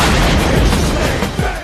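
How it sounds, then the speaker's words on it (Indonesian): Bomb explosion aboard a helicopter in an action film, a dense roaring blast that fills the whole moment with heavy rumble and crackling debris, loud and close before tailing off. "Alhasil si agen harus tewas dalam ledakan di atas helikopter tersebut."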